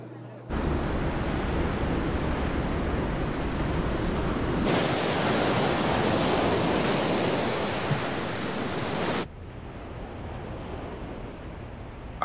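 Sea waves wash in a steady, roaring broadband surf. The loudness shifts abruptly up and then down over about twelve seconds, with no voices heard.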